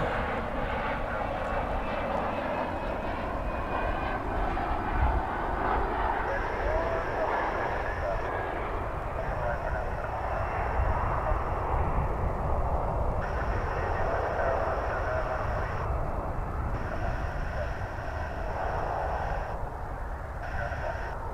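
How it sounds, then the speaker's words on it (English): An American Eagle passenger jet lands at DFW Airport, its engine roar a steady, broad wash that holds at a constant loudness for about twenty seconds, with a voice talking over part of it. "This is American Eagle Flight 3515 coming in from Monterey."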